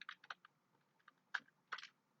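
Short bursts of keystrokes on a computer keyboard as a web address is typed, a few quick clicks, a pause, then two more clusters of taps, close and quiet with no talking.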